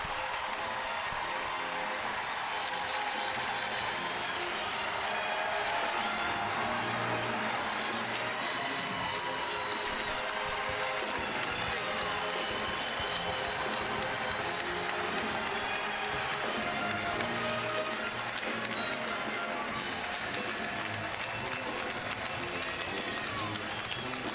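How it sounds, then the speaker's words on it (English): A basketball arena crowd at a Big East Tournament quarterfinal between UConn and Providence roars continuously, with sustained cheering, clapping and shouting filling the space loudly throughout. "Listen to this crowd."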